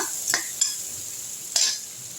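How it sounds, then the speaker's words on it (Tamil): Sautéing in a pan for meal maker kurma, a soft background sizzle broken by three quick spatula scrapes, close and moderately loud with no talking. "நல்லா சாஃப்டாக ஆகிற அளவுக்கு வதக்குங்க"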